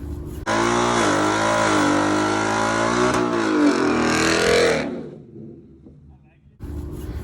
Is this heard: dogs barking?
no